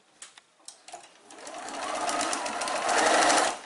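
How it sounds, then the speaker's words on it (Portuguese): A sewing machine stitches around the edge of a fabric ironing board cover, starting with a few separate clicks and then settling into a steady whirring run close by. "Começamos a cozer a toda a volta."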